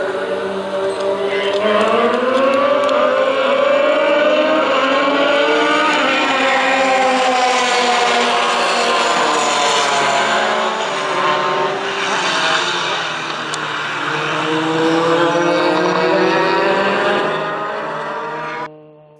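Race cars leaving the start at Buttonwillow in a CalClub Group 5 event, heard from inside a car: a loud, close engine climbs in pitch through several gears, easing and surging again as the field gets away.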